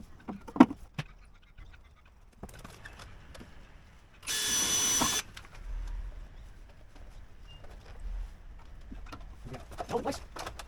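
A power tool rivets a new downpipe in place, making one short, sharp, harsh burst of about a second. Pigeons coo and scattered knocks and rustles fill the quieter stretches around it.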